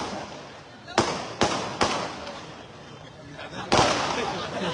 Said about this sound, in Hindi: मैं पटाखे के बारे में बोल रहा।